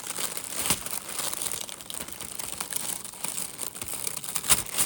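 A paper sticker is peeled slowly off a glass ink bottle up close, giving continuous crinkling and tearing with small sharp snaps spread through it.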